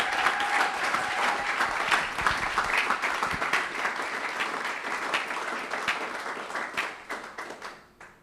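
A church congregation at a Sunday service claps and applauds in a dense, sustained burst that slowly thins and fades out toward the end.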